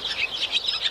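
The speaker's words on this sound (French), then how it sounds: "Tu entends, c'est un rouge-gorge." A European robin sings high, thin twittering notes in quick succession, fairly close and clear, with no voices.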